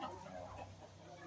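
Chickens cluck softly in a farmyard at morning feeding time, a low continuous murmur of fowl heard faintly and alone.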